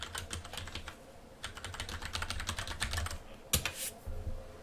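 Someone types a web address on a computer keyboard in quick clusters of close, crisp key clicks, pausing briefly before a final louder keystroke.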